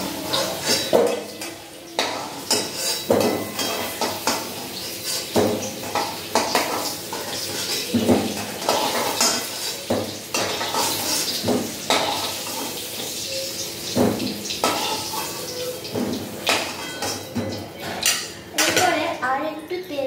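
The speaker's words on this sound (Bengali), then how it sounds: "এবারে বাটিতে তুলে নেব, এবারে তেল ছেঁকে ছেঁকে তুলে নেব।" Fried potatoes are lifted out of hot oil and drained into a bowl in a home kitchen. A metal spoon clinks and scrapes against the pan in repeated irregular bursts, close by, over a faint frying hiss.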